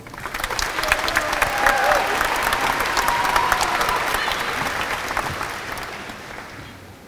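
Steady applause from a high school commencement audience greeting the class speakers, a dense, even clapping that swells and holds for several seconds, then begins to thin toward the end.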